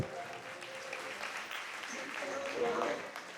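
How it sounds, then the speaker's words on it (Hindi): A congregation at a Jain monk's sermon claps together in a moderately loud, continuous patter, swelling slightly toward the end, with faint voices mixed in. "यदि जिद छोड़वे तैयार हो तो तालियां अच्छी बजाओ"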